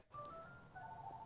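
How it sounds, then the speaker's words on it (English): A mobile phone ringtone plays as a short electronic melody of clear, thin tones, fairly quiet over a faint background hum. "I hate that ringer. I want to throw my phone every time it rings."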